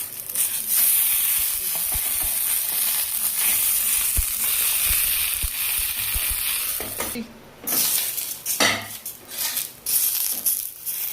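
Fish wrapped in banana leaf fries in a pan with a loud continuous sizzle, broken later by utensil scrapes and short clattering bursts against the pan.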